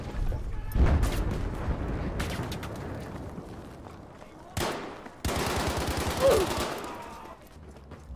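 Machine gun bursts and scattered gunshots crackle in a frantic Battlefield V firefight, rapid rattling volleys broken by short gaps and sharp loud onsets.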